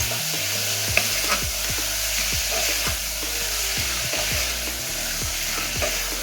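Ash gourd sautéed in a pan hisses in a constant close sizzle while a spatula scrapes and knocks against the pan in a loose repeating rhythm, with no voices.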